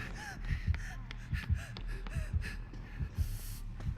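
A heartbeat in the horror game Dead by Daylight thumps in a steady, deep double-beat rhythm, fairly quiet and close, with a low hum and faint breathing underneath.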